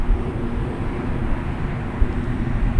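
An E-flite Viper 90mm EDF RC jet with flaps set to one notch flies a touch-and-go pass, its ducted fan making a steady, fairly loud rushing roar that holds constant throughout, with no talking.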